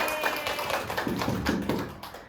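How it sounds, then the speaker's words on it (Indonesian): A class of fifth-grade pupils claps together in a classroom, a dense, fairly close patter of hand claps lasting a couple of seconds with no talking over it. "Aplaus dulu dong untuk kelas 5."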